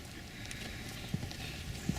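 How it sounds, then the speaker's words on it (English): A couple of dull hoof clops from a skittish horse land on hard ground a moment apart, faint and somewhat distant over steady outdoor background noise at Collins Marsh. "And there's a horse here. He's pretty skittish."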